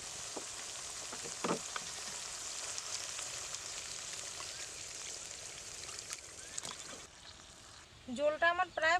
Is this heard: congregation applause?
no